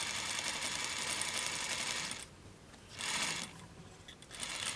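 A sewing machine runs a 3/8 seam on a Vogue 9039 jacket, sounding as a fast, steady, close mechanical whir that pauses briefly twice before resuming.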